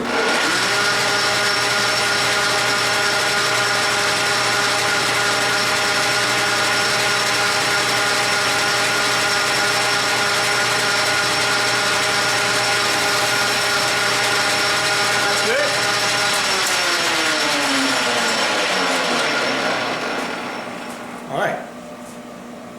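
Steel milling vise washer having a chamfer machined on its outside edge, a steady whirring machining drone with layered mechanical tones that holds loud and close, then winds down near the end.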